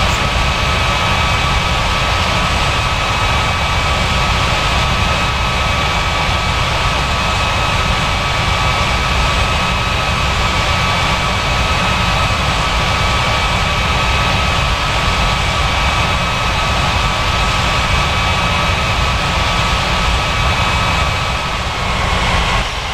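Jet aircraft on approach to a runway at Sao Paulo airport, a loud, steady engine roar with a constant whine that holds unbroken throughout, no voices.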